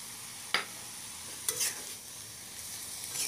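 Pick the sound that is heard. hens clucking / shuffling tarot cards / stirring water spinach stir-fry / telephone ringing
stirring water spinach stir-fry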